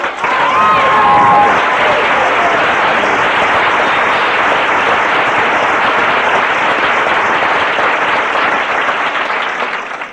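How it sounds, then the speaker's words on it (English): A large audience bursts into sustained applause, loud and dense clapping that holds steady for about ten seconds before tapering slightly at the close, with a brief voice or tone near the start. "You should applaud yourself for that."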